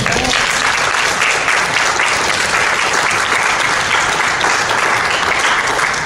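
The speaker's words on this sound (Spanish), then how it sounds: "Dale un aplauso al Señor." Sustained, loud applause from a church congregation fills the whole stretch at a steady, dense level, with no pauses and no break in the clapping.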